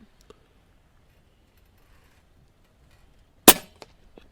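A DAR Gen 3 .25 regulated PCP airgun fires a single sharp, close crack at 50 yards outdoors, with a short tail after it and near silence on either side.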